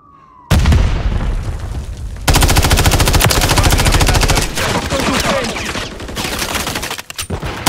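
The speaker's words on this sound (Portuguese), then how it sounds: "Granada lançada!" Grenade blast and rapid automatic gunfire in Call of Duty: Modern Warfare 3 multiplayer: a loud boom followed by sustained, dense bursts of shooting that fill the clip, with a brief pause near the end.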